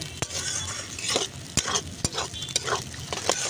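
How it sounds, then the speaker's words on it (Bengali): Beaten eggs and onions fry in a pan, giving a close, steady sizzle punctuated by repeated clicks and scrapes of a utensil stirring against the pan. "এখানে ডিমটাকেও পেঁয়াজের সাথে খুব ভালো করে ভেজে নিয়েছি"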